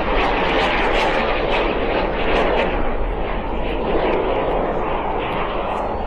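A Subsonex jet mini aircraft, a light single-seat jet, flies at an outdoor air show, its engine making a steady, loud roar that holds for several seconds with no break.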